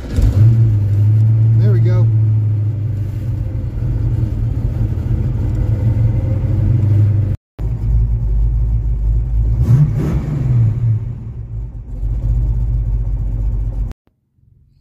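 Cammed Ford Mustang V8 cold-starting after three days with new plugs and wires, a loud lumpy idle with blips of revving, briefly cutting out and catching again, while someone talks over it.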